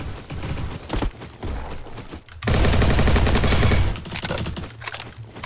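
Rapid automatic gunfire from a Roblox shooter game, loud bursts of dense shots that swell into a sustained barrage midway before breaking into shorter volleys.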